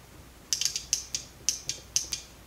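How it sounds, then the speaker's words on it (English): An automotive fuel pump relay, energized on the bench, gives a series of sharp, bright clicks in uneven pairs and triplets over about two seconds, close and clear against a faint background hiss. "You should hear a click when I apply the power."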